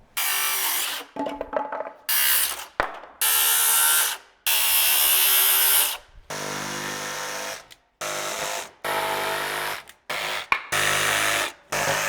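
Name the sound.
jigsaw cutting stair stringer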